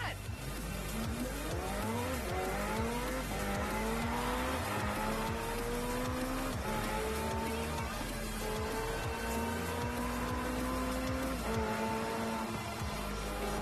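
Racing cars and trucks roar through city streets in Forza Horizon 4, several engines droning and rising in pitch through gear changes as they accelerate, loud and continuous throughout.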